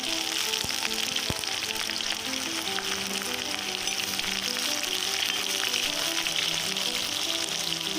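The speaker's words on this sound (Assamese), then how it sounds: "পিঁয়াজ আৰু নহৰু বটাখিনি দি ভালদৰে ভাজি ল'ম" Onion and garlic paste fries in hot oil with a steady, close, crackling sizzle that continues throughout without talk.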